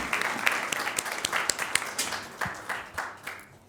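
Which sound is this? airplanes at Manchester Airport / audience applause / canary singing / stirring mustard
audience applause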